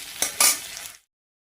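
Katla fish curry sautéed in a pan: a brief sizzle with two sharp scraping clinks of a utensil, cutting off abruptly into silence.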